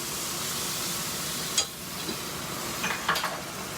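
Finnish pancake batter sizzles steadily in hot butter in a pan, a constant close frying hiss with a couple of faint metallic clinks of a ladle or pan.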